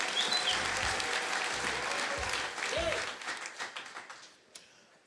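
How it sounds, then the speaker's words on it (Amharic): A church congregation applauds at a preacher's call, a dense continuous clapping that swells loudly, then breaks into scattered claps that fade toward the end amid crowd murmur. "አጨብጭቡ ለእግዚአብሔር ክብር።"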